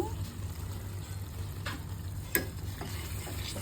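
Chicken pieces frying in hot masala-spiced oil, a steady close sizzle with a few stirring clicks and one sharp tap of a utensil against the pan.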